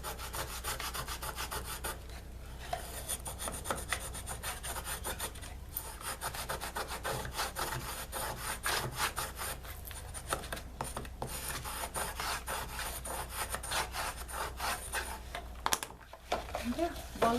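A paper gift box lid, a gatefold box, is burnished by hand with repeated brisk rubbing and scraping strokes, close and dry, running on with brief pauses.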